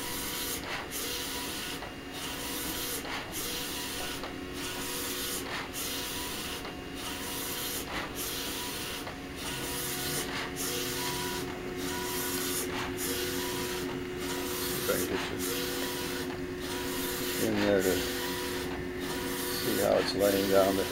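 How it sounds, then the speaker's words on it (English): An HP DesignJet 500ps large-format plotter lays down ink line by line. Its carriage makes a steady, faint mechanical hum and whir, with regular rhythmic passes and occasional clicks. A person talks over it throughout. "Laying down the ink line by line."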